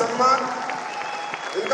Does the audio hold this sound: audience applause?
yes